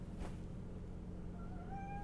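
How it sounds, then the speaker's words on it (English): A house cat meows with rising, drawn-out cries in the last second, standing out clearly against a steady low background hum, with no talking. "Oh, that's a cat, not a kid."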